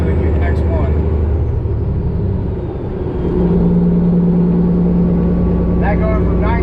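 A truck's 10-speed manual transmission floated from ninth to tenth gear on the road: a loud, steady engine drone dips briefly as revs fall, then settles into a lower even hum with a tonal whine, under a voice.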